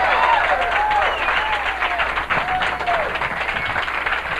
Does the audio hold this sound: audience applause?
yes